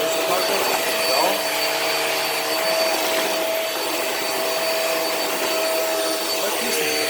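Hoover React vacuum cleaner running on carpet, a steady close motor whine with a high tonal hum that holds continuously throughout.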